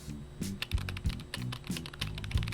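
Rapid keyboard typing on the boss's computer inside the horror game Withered Haven, a close run of irregular clicking keystrokes with a low game hum underneath and no talking.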